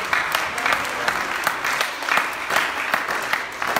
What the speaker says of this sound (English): Clap your hands and praise God.